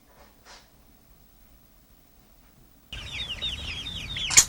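Chickens in a chicken house on a chicken ranch, their clucks and calls rising suddenly after a quiet stretch, busy and close with overlapping fowl sounds.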